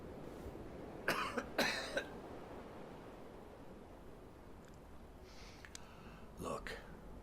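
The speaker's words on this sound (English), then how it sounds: "Cough, please." A patient in the Hitman 2 video game gives a few short coughs for a doctor, two close bursts early and two more near the end over faint background hiss.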